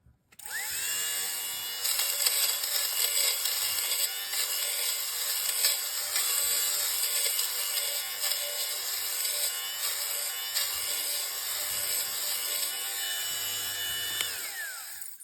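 A MR. SIGA fabric shaver runs steadily on worn fabric, a continuous close whirring buzz with a scratchy rubbing texture that holds for about fourteen seconds before cutting off, with no talking.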